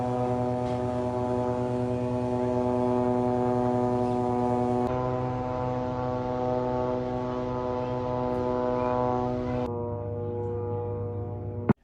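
Israeli surveillance planes droning over Gaza, a steady tonal engine hum with strong harmonics that holds for several seconds, shifts pitch twice and then cuts off abruptly.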